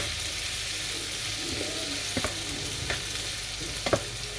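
A sauce simmering in a pan is stirred with a utensil, giving a soft continuous bubbling sizzle with a few distinct scraping knocks against the pan toward the end, fairly close and without talk.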